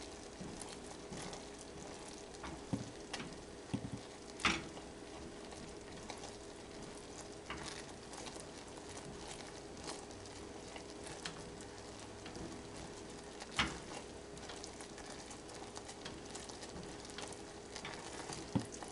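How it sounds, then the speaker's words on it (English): Butterscotch fudge mixture cooking in a pot while being stirred, with a quiet, steady bubbling sizzle and occasional soft scraping clicks from the spoon. "And just keep stirring."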